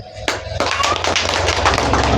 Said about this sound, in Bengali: আপনারা সবাই একটা করতালি দেন।